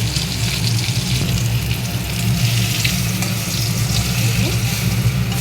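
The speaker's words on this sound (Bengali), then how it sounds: "তারপরে এই দুটো দাগার লেজাটা ভেজে নেব।" Bhetki fish tail pieces frying in hot oil: a loud, steady, close-up frying sizzle with a constant low hum underneath.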